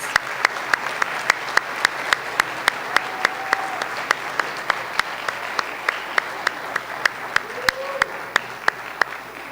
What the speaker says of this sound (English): a round of applause for our high honor students